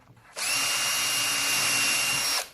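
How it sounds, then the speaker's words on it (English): A power drill whirs steadily at high speed for about two seconds, starting and stopping abruptly, close and loud with no talking. "Drill through."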